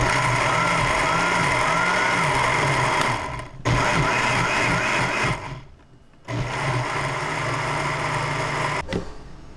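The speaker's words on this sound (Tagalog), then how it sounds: "ngayon po ating i-blender" A kitchen blender whirs loudly as it purées coconut milk with corn for kalamay, running in three steady motor bursts separated by brief pauses, with no talking.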